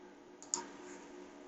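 A single sharp click from a computer mouse while working with an on-screen virtual keyboard, one brief tap standing alone over a faint steady hum.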